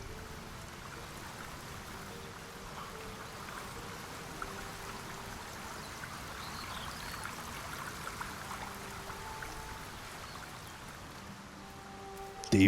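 Steady, gentle rushing of a stream in Baldur's Gate 3, a constant soft trickling wash of water at even loudness with no talking.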